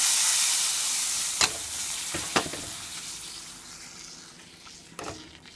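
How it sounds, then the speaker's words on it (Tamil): Coconut oil tempering poured into a pot of cabbage and moong dal kootu gives a loud, steady sizzle and hiss, with a few sharp spattering pops along the way, and no talk. "இதை வந்து நம்ம இதில் கொட்டிட போகிறோம்."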